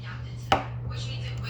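A single crisp knife chop through a pepper on a cutting board, one sharp hit over a steady low hum in a quiet kitchen.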